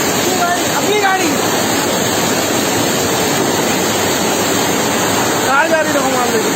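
Heavy rain pours down in the Banjara Hills neighbourhood, a loud, unbroken roaring wash with vehicles passing close and faint voices underneath.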